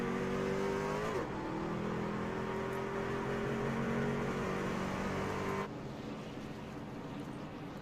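A NASCAR Truck Series race truck pulls off pit road, its engine droning loud and steady with a rising pitch, then a sudden drop in level as the truck moves away and the tone continues more faintly.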